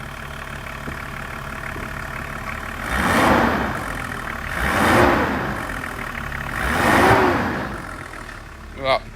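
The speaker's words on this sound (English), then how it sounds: "I'll give it a little rev." A Vauxhall Omega GLS Estate with a 2.5 TD BMW straight-six diesel revs three times over a steady idle, each swell rising and falling smoothly, close by, ending with a brief rattle.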